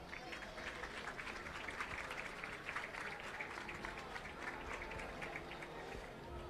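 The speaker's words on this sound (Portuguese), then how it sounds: "Uma salva de palmas." Crowd applause during the opening parade of the 2019 Festas da Agualva, a steady wash of clapping from spectators outdoors, fairly faint and distant, with no clear voices on top.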